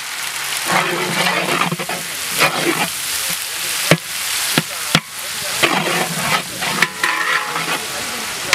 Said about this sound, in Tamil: அதை தொடர்ந்து நல்லா வதங்கி வரப்போகும்போது தக்காளி, புதினா மல்லி, பச்சை மிளகா சேர்த்துக்கிறோம்.